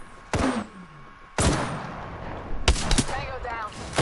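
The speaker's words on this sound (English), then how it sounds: "And our teammate's shooting at something." A teammate's gunfire in the video game Apex Legends rings out as three sharp, separate shots spaced about a second apart, loud with a short echoing tail.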